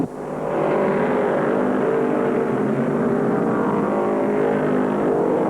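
A pack of 1974 NASCAR modified race cars at Martinsville Speedway accelerates off the start in a loud, sustained blend of roaring engines that swells quickly and holds steady, with no talk over it.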